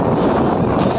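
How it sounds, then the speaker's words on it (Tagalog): Strong wind blows at a pier where boats are moored. It makes a loud, dense roar of buffeting across the microphone that fills the whole brief moment. "So medyo malakas yung hangin."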